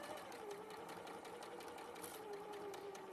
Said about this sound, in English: I'm going to sew that again with a 1/4-inch triangle